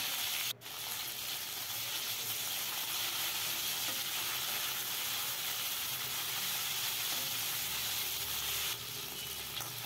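Drumstick pieces and tomato fry in a pan with a dense, steady sizzle, close and constant, broken by one brief clatter near the start.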